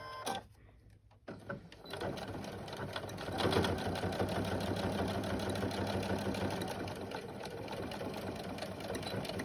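A sewing machine back-stitches denim and cotton fabric for a child's backpack, its rapid steady chatter starting after a brief quiet moment and running continuously at moderate volume.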